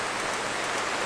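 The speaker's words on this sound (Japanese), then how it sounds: "雨降ってきたね" Rain falls steadily at a mountaintop campsite in Oita during a car-camping trip, a soft, even hiss of drops that continues without break throughout, with no voices.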